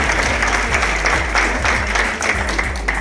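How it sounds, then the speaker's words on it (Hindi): Loud audience applause at a three-day workshop at Satyam College in Nakodar, a thick, sustained clatter of many hands with a steady low electrical hum underneath throughout. "तालियां अपने नाल जोरदार मारने चाहिए"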